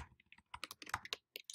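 Crisp, close keystrokes on a computer keyboard while filling in fields of an online DocuSign form, coming in uneven clusters of taps with short pauses between them.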